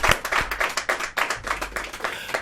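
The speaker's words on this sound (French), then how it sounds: "Merci d'applaudir et que commence le Mac 12." An audience claps at the opening of a television show, a brisk run of overlapping hand claps with a pulsing rhythm, close and fairly loud, with no talking over it.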